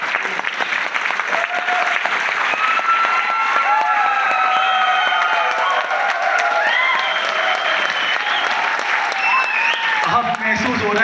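An audience at a ULP program event in Guwahati claps loudly and continuously, a dense wash of applause with scattered cheers that fades near the end.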